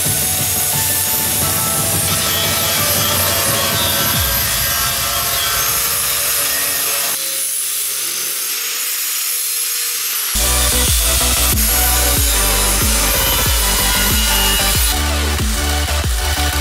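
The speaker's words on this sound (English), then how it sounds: "So we're gonna use this flappy wheel thing." A flap wheel on a power grinder shapes metal on a fabricated Move bumper for a shorty Duramax truck. It makes a loud, close, continuous abrasive whine and rasp that shifts pitch and grit as the tool digs in and eases off.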